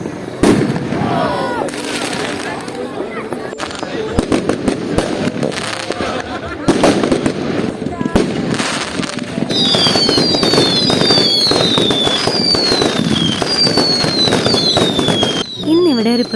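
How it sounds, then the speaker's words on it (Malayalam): Fireworks and firecrackers burst repeatedly on Bonfire Night in the UK, a dense run of loud cracks and pops with whistling rockets near the end, while people talk over the din. "പക്ഷെ ഇവിടെ ഇപ്പോൾ ഒരു പെട്ടി പടക്കം അവർ കൊണ്ടുവന്നിട്ടുണ്ട്."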